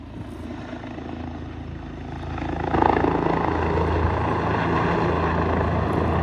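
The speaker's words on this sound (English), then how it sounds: "But here comes the helicopter." Fire-fighting helicopter approaching over a wildfire scene in Wears Valley, its rotor and engine roar building steadily and growing louder around the third second, then holding strong and close.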